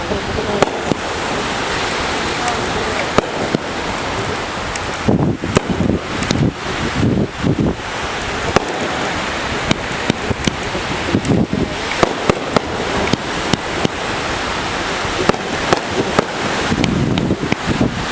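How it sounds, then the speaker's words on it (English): A Fourth of July fireworks show on a beach crackles and pops continuously from a distance, sharp bursts scattered over a constant roar of surf and wind with no talk. "that was a fireworks show"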